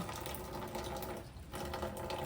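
Water pours steadily from a tap into a laundry basin, a constant close splashing rush that dips briefly in the middle before continuing.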